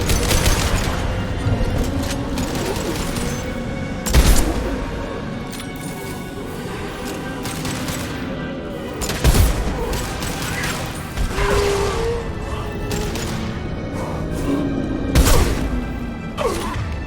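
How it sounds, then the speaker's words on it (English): High-impact gunshots in the Mass Effect 2 video game: loud heavy shots cracking out every few seconds, each a sharp booming burst, over a constant bed of combat noise and mechanical clatter. "Firing a high-impact shot."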